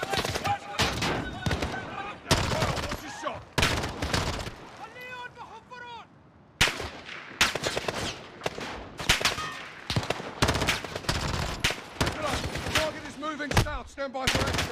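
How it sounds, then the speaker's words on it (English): Rapid bursts of gunfire from Call of Duty: Modern Warfare (2019) crackle through repeated loud volleys, mixed with explosions and radio-style voices talking over the fighting. "The gunshots, of course."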